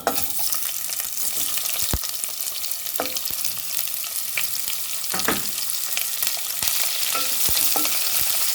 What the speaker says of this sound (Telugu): ఉల్లిగడ్డలు కొంచెం ఫ్రై అయ్యేదాకా ఫ్రై చేసుకొని మనకి కొంచెం బ్రౌన్ కలర్ వచ్చేంత వరకు ఫ్రై చేసుకుందాం